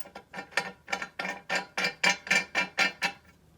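Drain plug with crush washer being threaded into a Honda ATC 200X engine bottom end, a rapid run of about a dozen evenly spaced ratchet clicks, close and fairly quiet, ending as the plug seats.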